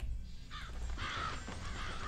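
Game crows or eagles in Hungry Dragon caw in three harsh, rasping bursts, moderately loud over a steady background hum of game audio.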